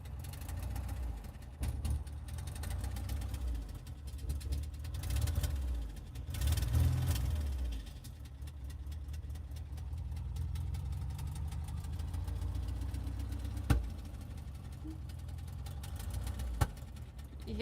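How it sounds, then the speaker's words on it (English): A Volkswagen engine idling close by with a slight misfire, a steady low rumble with uneven pulses and a few sharp knocks, some swells in loudness, and no talk. "You hear a little bit of misfiring."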